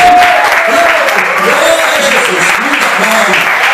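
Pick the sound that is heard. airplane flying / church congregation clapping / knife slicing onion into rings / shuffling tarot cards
church congregation clapping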